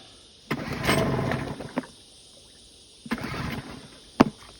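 A 5.8 HP Parsun two-stroke outboard motor, on full choke, sputters briefly to life twice, each attempt a short buzzing burst that dies away into quiet.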